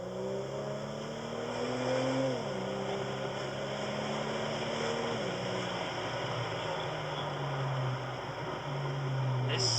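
BMW E92 with N55 engine and VRSF downpipe pulling through the gears, a steady engine drone rising in pitch, dropping briefly at shifts, heard from inside the car under broad road and wind noise.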